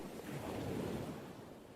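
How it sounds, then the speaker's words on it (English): Loud ocean surf roars close by as a steady, continuous wash of breaking waves, with some wind noise on the microphone and no voices. "Natty, the ocean is really loud."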